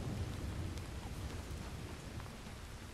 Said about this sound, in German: lauschen dem Donner, dem Regen.